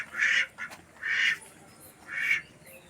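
Ducks at a village pond beside a poultry farm give three loud, separate bursts of quacking, close by and evenly spaced, with no voices over them.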